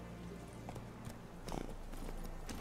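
Horse hooves clip-clopping at a walk in The Witcher 3 game, faint rhythmic hoofbeats over a low background rumble, quiet and close.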